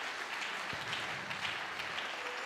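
A church congregation claps together in a sustained, even burst of applause that fills the room for a few seconds.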